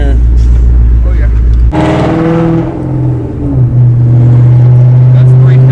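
A 750HP Shelby GT500 Mustang engine revving loudly up close, a deep rumble that swells into a harsh climbing roar and settles into a heavy drone, with people talking over it.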